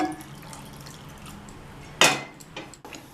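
Water poured into a pan of sabudana papad mixture on the stove, a short splashing burst standing out clearly against quiet kitchen background noise.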